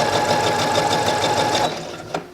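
A sewing machine stitches a French seam at about a 5/8 inch allowance, a steady close whirring run with rapid regular needle pulses that slows and stops near the end, followed by a brief click.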